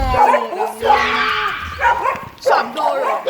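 A dog on a Jamaican riverside outing barks and yips with whimpering notes in short close bursts, mixed with people talking nearby.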